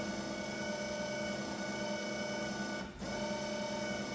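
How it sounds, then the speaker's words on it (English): A JC2C printer's bed motor drives the bed up and down with a steady, even mechanical whir that holds at the same level the whole time and dips briefly near the end. "Make sure my bed goes up and down."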